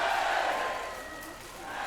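Stadium crowd at a beach volleyball world championship final in Stavanger cheering loudly as spectators do Mexican waves, a dense roar that eases off slightly over the short stretch.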